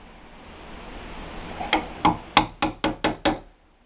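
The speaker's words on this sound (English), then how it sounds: "when I go to chisel this out, most of the time, I end up chiseling this whole thing right out here" Sharp knocks of a mallet on a chisel cutting out wood, seven close, evenly spaced strikes after a quieter rustling lead-in, ending abruptly.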